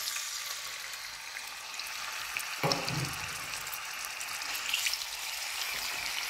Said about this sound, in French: Et vous versez dans l'huile.